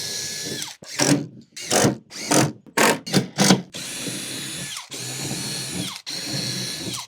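Power drill driving screws into the wood of a DIY skateboard kicker ramp, several short whirring bursts followed by three longer sustained runs, close and loud, with no talking.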